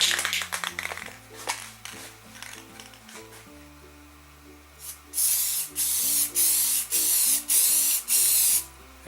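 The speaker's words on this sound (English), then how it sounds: "I'm going to spray a light coat of clear gloss on it." An aerosol can sprays a light coat of clear gloss over the lettering of a CNC-cut wooden sign, in several short bursts of close hissing, preceded by clattering handling noises.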